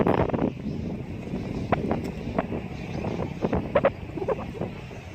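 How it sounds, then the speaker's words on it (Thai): Strong wind rushes through pine trees at a busy temple spot under a darkening sky, a steady close roar with gusty buffeting across the microphone and no talk. "ลมแรง"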